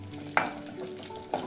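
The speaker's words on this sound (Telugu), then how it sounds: "వేసి ఫ్రై చేసుకోండి." Raisins frying in a pan for semiya payasam, a low sizzle under two sharp scraping stirs of a spoon against the pan, close and brief, without talk.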